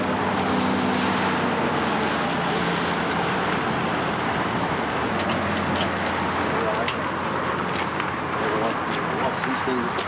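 A 1914 Michaelson Minneapolis motorcycle engine chugs steadily while being ridden, a low rumbling drone with wind noise, and someone talks over it throughout.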